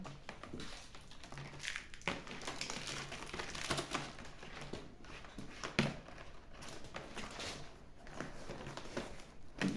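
Rattan strands being woven by hand into a cover for a water bottle, making faint, irregular rustles, creaks and soft taps that come and go in quick bursts.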